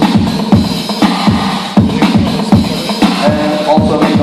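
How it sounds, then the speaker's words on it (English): A Roland AIRA drum machine plays a steady sequenced beat with punchy kicks about twice a second and busy hi-hats, with reverb added on one step that briefly smears its hit into a wash. "So I can put some reverb on step number 5, and it will sound like this."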